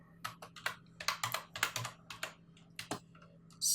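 Someone types on a computer keyboard: a quick, uneven burst of about a dozen crisp key clicks, close and fairly quiet, over a low steady hum.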